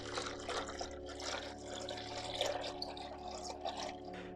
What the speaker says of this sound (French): moi j'utilise un petit arrosoir comme ça, je trouve ça pratique.